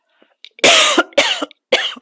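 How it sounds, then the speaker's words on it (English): Three loud, harsh coughs in quick succession, close up, with short breathy pauses between them and nothing else heard. "I'm going to have to cough."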